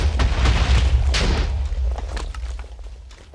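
Explosions from a wither in a video game boom in a dense, rumbling burst that slowly fades.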